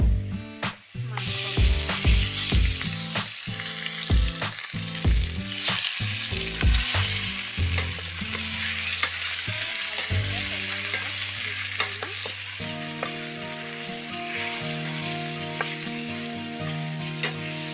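Chicken meat sizzling and frying in a pan while cooking an Assamese raw banana curry, with clattering stirring and scraping at first, then a steady hiss with humming tones, close and moderately loud.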